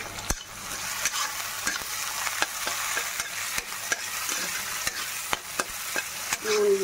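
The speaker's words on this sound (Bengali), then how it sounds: "এবার এদিকে এটা ভাজা ভাজা হোক।" Egg bhujia frying in a pan gives a steady close sizzle, cut by sharp scrapes and taps as the food is stirred at an uneven pace, with no talking.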